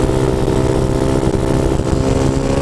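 Motorcycle engine held at high revs under steady throttle while the rider drags the brake to balance a wheelie; a loud, continuous buzzing drone with small wavering surges, close and alone with no talk.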